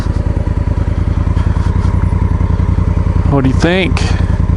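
A Honda Africa Twin motorcycle engine throbs in a steady, loud pulsing rhythm while riding through spring snow, close to the rider, with a person's brief spoken question and a short rising sweep near the end.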